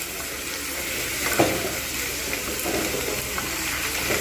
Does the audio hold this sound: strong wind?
no